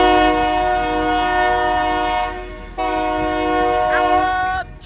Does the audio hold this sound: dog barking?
no